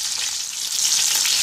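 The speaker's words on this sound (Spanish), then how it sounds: "aceite está caliente, ya voy a empezar a poner mi piña" Pineapple pieces frying in hot oil give off a steady, close bright sizzle with gentle crackling throughout, no voices over it.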